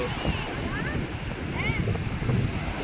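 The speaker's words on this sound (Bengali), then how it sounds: "সমুদ্রের গর্জন শুনতে পাচ্ছ" Steady, loud roar of ocean surf at the beach in Puri blended with gusty wind rumble, continuous throughout with no breaks.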